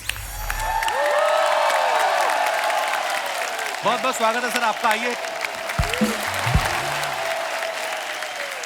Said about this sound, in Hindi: आप सबकी तालियां ऐसे बजती रहनी चाहिए